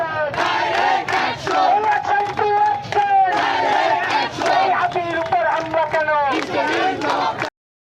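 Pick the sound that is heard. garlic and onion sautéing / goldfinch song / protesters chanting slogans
protesters chanting slogans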